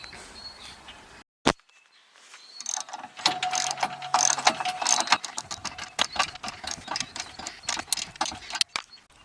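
A hand ratchet bolts a wooden pressure-washing skid to a truck or trailer, a fast run of close metallic clicks after a sharp knock and a quiet pause, with a few louder clacks toward the end.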